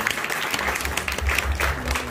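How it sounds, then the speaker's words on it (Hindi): A crowd at a book inauguration event applauds, a brief, fairly loud spell of clapping with some crowd noise and a low hum underneath, lasting about two seconds. "एक दफ़ा फिर इनके लिए भरपूर तालियां बजाएंगे"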